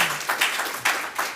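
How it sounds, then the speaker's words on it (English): Audience clapping at a county commissioners' regular meeting, a short close burst of scattered handclaps in a large hall with no talk over it. "To the members of the public that are sitting here clapping and carrying on after the speakers"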